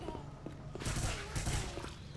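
Rapid gunfire bursts in Left 4 Dead 2, two short quiet volleys crackling in the distance over low game ambience and faint voices.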